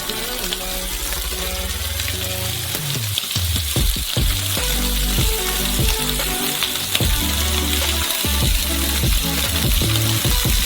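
Loud, steady sizzling and crackling of a burger patty frying in hot oil on a stove at maximum heat, with a few clanks and scrapes of utensils in the pan.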